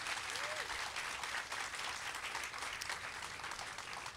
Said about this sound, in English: a round of applause for Sasha Gordon